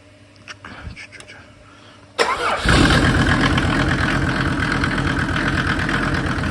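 A Mercedes OM605 diesel engine on a PN-40 motor pump cranks briefly and catches, then settles into a loud steady rumbling idle, close by, after a few quiet clicks and faint voices.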